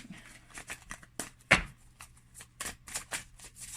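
A deck of cards is shuffled close up: rapid riffling flutters and soft slaps in quick bursts, with one louder snap partway through.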